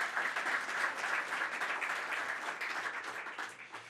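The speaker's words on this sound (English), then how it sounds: "So again, a round of applause for that group of people." Sustained audience applause fills a room at a public announcement about the Aquarium of Niagara, dense and even, slowly tapering over four seconds.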